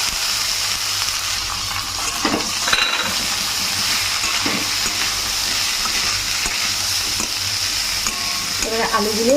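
Boiled potatoes sizzle in a pan as a spoon stirs and scrapes through them, a continuous close frying hiss broken by a few louder knocks of the utensil against the metal.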